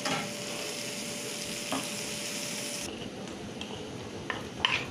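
Chopped green chilies and onion frying in a pan for chicken noodles, a steady sizzle with stirring scrapes that drops to a quieter crackle partway through, plus a few light utensil taps.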